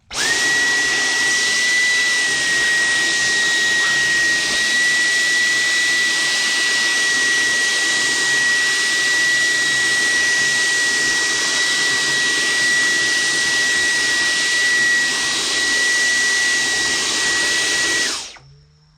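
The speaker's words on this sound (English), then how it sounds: "just vacuum all of the little holes you see, and just the fan cover, just vacuum all that" A vacuum cleaner runs steadily close up while cleaning the fan cover and small vent holes of a PS5 console, a loud constant whine with a high tonal hum, stopping sharply at the end.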